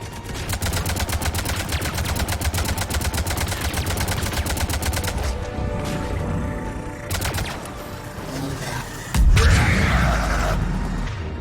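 Rapid automatic gunfire from Mass Effect 3 combat, loud and sustained bursts in the first half, then scattered shots and a heavy blast near the end.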